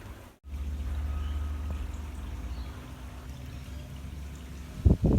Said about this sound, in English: It's time to fill up the pond now